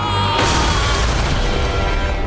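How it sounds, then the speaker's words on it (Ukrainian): A loud boom bursts in abruptly, then a long, dense rumble and roar carries on without easing. "Ось це вибух. Який жах."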